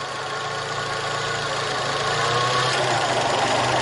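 A car engine idles steadily with the air conditioner running, after a ground wire was fitted between body and engine; a continuous, even hum with broadband fan-like noise holds throughout, growing slightly louder near the end.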